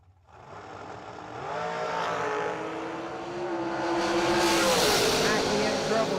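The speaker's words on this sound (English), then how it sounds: "Flying Mule Racecraft, right lane, dial 468 in the Glenn Smith Chevy Power Dragster" Chevy Power dragsters launching and racing down a drag strip at a bracket race, a loud engine roar building and sustaining over several seconds, with a rising whine and a public-address announcer talking over it.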